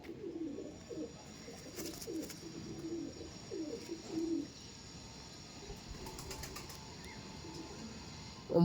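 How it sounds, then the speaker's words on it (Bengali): Andhra pigeons, an older male and a hen, give soft low cooing calls in short repeated bursts close by, with mechanical rattles and a steady background hum. "এটা নর পায়রা, এটা মাদি পায়রা"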